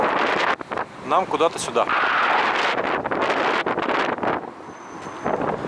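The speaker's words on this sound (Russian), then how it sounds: "Ветер начался" Wind picks up as the weather turns, a continuous broadband rush and mic buffeting heard outdoors over a man's speech, with faint traffic-like rumble underneath.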